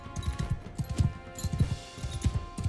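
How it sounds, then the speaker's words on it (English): Horse hooves galloping in a video game, a low-grade slow horse on a chase, giving a steady, close rhythmic clip-clop of repeated thuds. "my horse is really slow because it's a low-grade horse"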